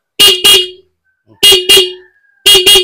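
Three pairs of short, loud, buzzy horn beeps from a Bajaj CT100 motorcycle after cleaning the horn button contacts, sharp double honks separated by brief pauses, close to the microphone.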